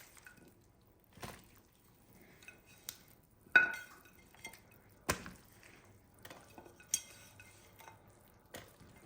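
Chopped vegetables go into a stock pot for smoky chicken stock, giving a series of irregular clunks and knocks with faint wet splashes in a quiet kitchen.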